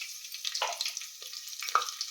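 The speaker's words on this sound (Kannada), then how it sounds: "ಇವಾಗ ಸಿಡಿತಾ ಇದೆ ಸಾಸಿವೆ" Mustard seeds spluttering in hot oil for bendekaye sambar: a soft, steady sizzle dotted with several quick pops and crackles, fairly quiet and close.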